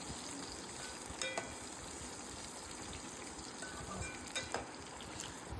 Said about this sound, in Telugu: సన్నగా కట్ చేసుకున్న దొండకాయలను వేసుకొని హై ఫ్లేమ్లో పెట్టి ఒక 1 to 2 మినిట్స్ తిప్పుకోవాలి